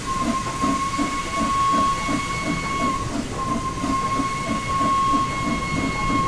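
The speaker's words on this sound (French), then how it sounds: "Oh mon dieu, notre locomotive à vapeur!" A steam locomotive in the Train Sim World 5 video game runs with a steady rhythmic chuff and clickety-clack, a continuous hiss of steam, and a sustained whistle-like tone, loud and close throughout with no talk.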